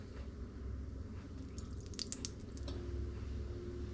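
Emulsified outboard engine gearbox oil, dripped onto a hot surface, gives a short burst of sharp crackles and pops lasting about a second, faint over a steady background hum.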